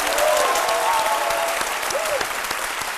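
A television studio audience applauds warmly, a dense sustained clapping of many hands at steady loudness, with a faint voice and brief tonal bits audible beneath.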